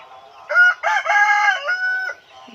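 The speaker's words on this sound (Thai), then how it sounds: "มีเสียงไก่ขัน" A rooster crows once, loud and close, a drawn-out cock-a-doodle-doo lasting about two seconds against a quiet background.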